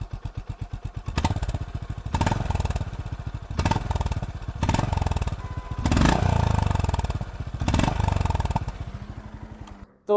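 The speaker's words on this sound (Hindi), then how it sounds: "मैं आपको इसका एग्जॉस्ट नोट भी सुना देता हूँ।" A Honda CB 350 RS motorcycle's stock exhaust thumps at idle, then revs up several times in repeated bursts before settling, its deep pulsing note close and loud.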